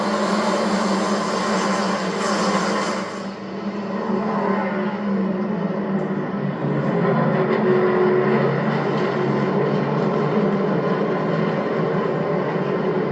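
NASCAR Cup cars race at Watkins Glen on the restart for the final stage, a loud layered engine roar as the field passes, easing briefly then swelling again into a sustained drone, with no talk.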